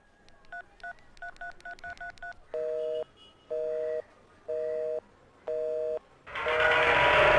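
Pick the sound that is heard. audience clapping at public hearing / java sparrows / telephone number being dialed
telephone number being dialed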